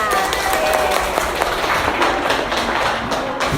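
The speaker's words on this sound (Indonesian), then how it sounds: "Tepuk tangan untuk kalian semua" Students in a classroom clap for themselves, a dense, steady patter of many hands with some thumps and a few tonal sounds mixed in, continuing throughout before cutting off.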